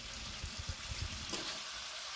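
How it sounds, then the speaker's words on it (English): Chicken sizzling in a skillet over medium-high heat, a soft steady crackle of frying with a few faint clicks and stirring noises, quiet and close, no voices. "that's going to sizzle over there, get nice and brown over a nice medium-high heat"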